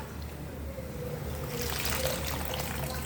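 Water poured into tamarind pulp in a cooking pot while making a simple tamarind broth, a soft trickling pour that grows a little louder near the end, fairly faint.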